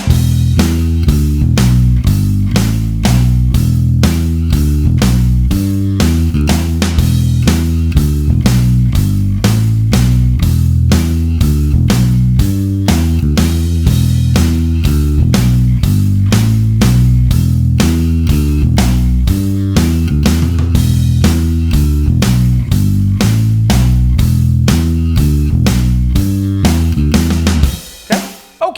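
An odd-time bass riff in 7 locks in with a steady drum track, the beat looping continuously at full loudness for nearly half a minute with a fill closing each cycle before stopping abruptly.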